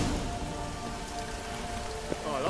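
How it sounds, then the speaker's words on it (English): Rain falling in The Witcher 3: Wild Hunt, a steady hiss of drops on surfaces with a faint low rumble beneath, fairly quiet and continuous, a brief tone near the end. "I like rain."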